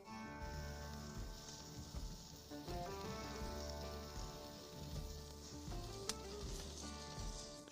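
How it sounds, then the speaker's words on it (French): Butter-basted burger sizzling steadily on a hot grill, a continuous crackling fry with spitting pops that holds close and even throughout, no talk. "nous allons badigeonner ce burger avec du beurre"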